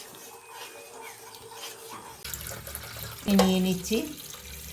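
A kitchen tap starts running partway through, a steady rush of water for straining soaked sago, with someone speaking over it and a short clatter near the end.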